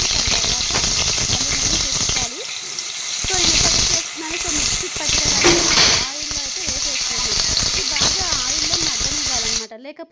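Ground spinach, fenugreek, onion and garlic paste sizzling in a pan, sputtering loudly and continuously with scraping stirs and spoon knocks, briefly dropping quieter in the middle before cutting off at the end.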